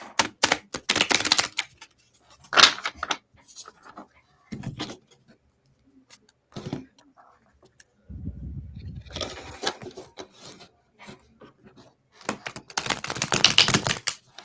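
Tarot cards are shuffled in several quick riffling bursts, crisp and close, separated by short pauses and soft handling noises.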